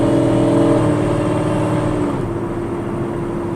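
A 1000 hp Procharged Camaro roars under hard acceleration, its tires spinning and the engine cutting, with a loud droning engine tone that eases slightly partway through.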